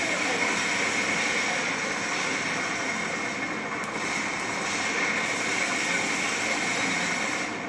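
A helicopter in a PS3 Call of Duty team deathmatch gives a constant, loud engine drone throughout, steady and unbroken with no talk over it.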